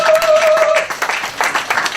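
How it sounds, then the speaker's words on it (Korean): Congregation applause in a church, a short burst of many hands clapping, loud and close, over two seconds with a brief voice at the start. "우리 친구에게 박수 한번 주십시오."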